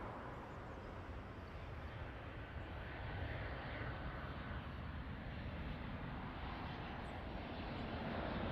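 An airliner on approach to runway 20 at Lisbon Airport gives a faint, distant, steady roar of jet engines that builds slightly and holds level, with no voices.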